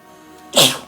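A single sharp human sneeze, close and loud, preceded by a faint intake of breath.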